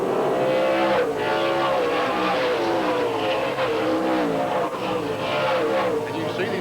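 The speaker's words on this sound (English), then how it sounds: "Cars get up to pretty good speed here at Tucson Raceway Park." NASCAR Featherlite Southwest Tour stock cars racing at Tucson Raceway Park, a loud, continuous roar of engines rising and falling as they circle the track, with a commentator talking over it.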